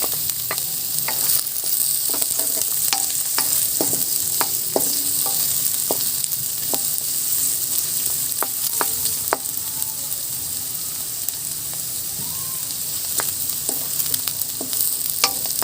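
Garlic and onion sizzle and crackle steadily in a frying pan that was just used to fry tofu, with scattered sharp pops and spatula stirring clicks over a constant hiss, close and fairly loud throughout.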